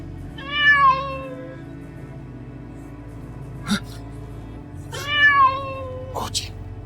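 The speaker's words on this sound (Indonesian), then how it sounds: "Kucing." A cat meows twice, clear and close, with a short tonal cry near the start and another about four seconds later. Soft clicks and a steady low background hum fill the gaps between the cries.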